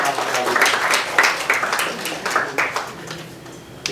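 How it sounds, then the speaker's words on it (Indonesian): A church congregation at a Sunday worship service applauds first-time visitors, a loud, even wash of many hands clapping close by that tapers gently toward the end. "Bisa kita beri tepuk tangan bagi Bapak Ibu yang hadir pertama kali."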